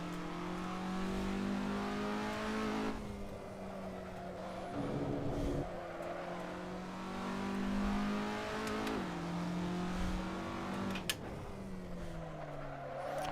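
Race car engine in the Assetto Corsa racing game, a loud continuous tone rising and falling through gear changes as it brakes into a tight corner and powers out, alone with no talk.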